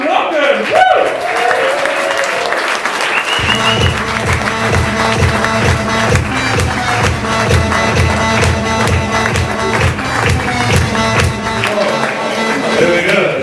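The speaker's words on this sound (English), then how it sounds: "give a massive round of applause for Stephen Larkin" A standing audience applauds and cheers for Stephen Larkin of Africa New Energies at a Startup Grind Cape Town event. The clapping is loud and sustained, with a voice calling out at the start and music pulsing underneath.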